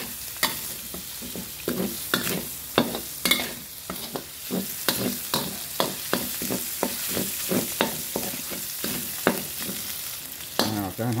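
Bamboo shoots stir-fry in a hot pan, with a steady sizzle under repeated sharp scraping strokes of a spatula, about two per second, close and fairly loud.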